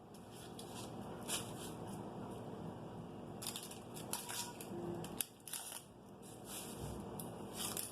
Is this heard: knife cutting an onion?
yes